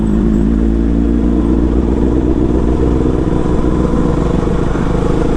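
Inline-four sport motorcycle engine running close by, a loud, steady, throaty drone that holds a constant pitch the whole time, with no voices.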